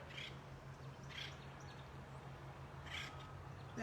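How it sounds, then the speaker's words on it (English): Faint, brief bird calls sound at a distance, three short bursts spaced apart over a low, steady outdoor hum. "that is a woodpecker on the top of that pole."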